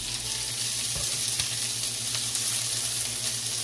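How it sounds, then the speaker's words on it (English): Onions sizzle in a skillet over medium-high heat for jambalaya, a dense continuous frying hiss close by with a low steady hum underneath and a couple of faint knocks, no speech. "So the first thing I'm gonna add to my skillet is my onions. My heat is on medium high."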